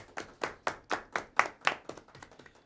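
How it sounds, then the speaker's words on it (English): A single person claps about a dozen times in a quiet room after an interview, each clap distinct and close, slowing and softening toward the end. "The applause for her."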